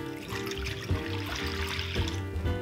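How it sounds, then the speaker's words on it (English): Warm water is poured into a mixing bowl with yeast for focaccia dough: a steady, close splashing pour with no pause for nearly three seconds. "We'll start with our yeast and our warm water into our bowl."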